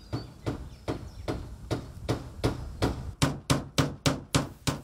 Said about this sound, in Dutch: Volop timmergeluiden vandaag in het dorpje Giezen Oudekerk.